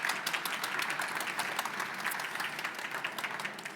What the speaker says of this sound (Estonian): Aitäh, aplaus palun ja.